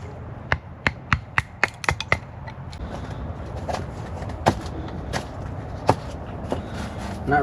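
Sharp, irregular knife scrapes and chops take shavings off a piece of wood at a camp cabin. About a dozen crisp close strikes cluster early, then sparser cuts follow, with no talking.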